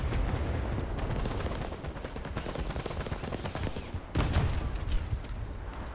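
A T-34-85 tank with its D-5T cannon in War Thunder sits amid steady battlefield gunfire, then a heavy, booming cannon shot erupts near the end, loud and close.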